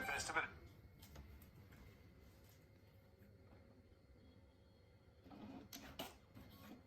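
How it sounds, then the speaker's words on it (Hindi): A Brother D510W label printer runs a print job, giving a brief mechanical burst at the start, a quiet stretch, then renewed whirring and clicking near the end, with someone talking over it. "प्रिंट करता हूँ मैं, प्रिंटिंग आ रहा है"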